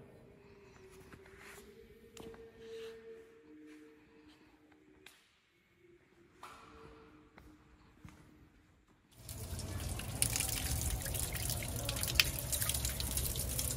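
Fountain water in Dubrovnik Old Town, Croatia: quiet intermittent drips and trickles at first, then a loud, steady gush of running water fills the last few seconds.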